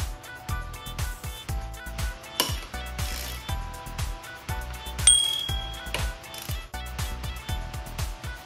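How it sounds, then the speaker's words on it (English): 10mm socket ratchet unbolting the brake caliper on a Harley Davidson V Rod motorcycle, with steady repeated pawl clicks in a regular rhythm, close and clear, plus a few metallic clinks. "First thing I do is I use the 10mm socket to unbolt the brake caliper."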